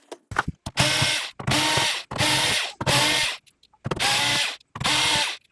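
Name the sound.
removing small silver screws from a PS5 Slim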